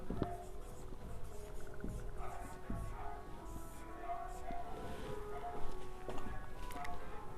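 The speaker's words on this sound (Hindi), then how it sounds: "सर्वप्रथम हम पहचान लिखेंगे।" Chalk or pen scratches across a board in a classroom, short strokes and taps under a low background hum, with no one talking over it.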